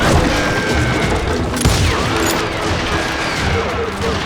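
Gunfire and crashing impacts in the Wild West shooter Call of Juarez Gunslinger, a loud, chaotic burst of shots with one sharp crack standing out midway, all over a dense battle din.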